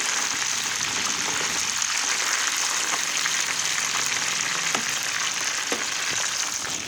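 Oil and curry for a Thai pickled bamboo shoot curry start to boil in a pot, giving a steady close hiss and sizzle with faint bubbling pops throughout.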